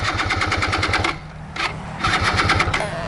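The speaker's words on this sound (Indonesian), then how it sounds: "Gimana mau pulang kalau motor kamu nggak mau hidup kayak gini?" A motorcycle engine failing to start gives rapid, loud mechanical chugging that cuts out briefly, sputters, then resumes its fast rhythmic churn, close up.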